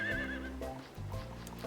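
A horse whinnies in the farming game Harvest Moon during a storm, one close wavering neigh at the start followed by snorting and low rumbling ambience.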